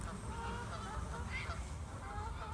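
Geese or waterfowl honking on a lake, a faint steady chorus of distant calls under a constant low hum of background noise.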